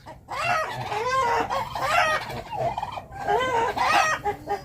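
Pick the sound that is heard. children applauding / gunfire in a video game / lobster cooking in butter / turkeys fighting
turkeys fighting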